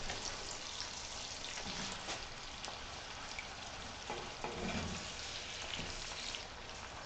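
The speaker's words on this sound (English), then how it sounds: "So this is cooking pretty good. This onion." Onion pieces fry in a pan with a steady, soft crackling sizzle and scattered tiny pops, close but fairly quiet, continuing evenly without any voices.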